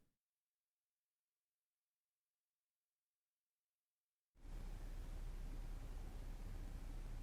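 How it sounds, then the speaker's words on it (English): Loud, steady white-noise static from a Nintendo Switch 2 trailer bursts in suddenly after several seconds of near silence and holds unbroken to the end. "White noise."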